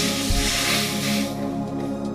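Water poured into frying poppy seed paste in a pan bursts into a loud, steady sizzling hiss close by, easing slightly as it settles.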